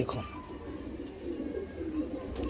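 Pigeons coo softly in a low, continuous rumble close by, amid steady background noise.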